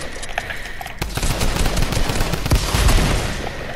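Rapid automatic gunfire and single shots from a battle-royale style arena duos video game, loud and dense with sharp bursts throughout, nearly continuous.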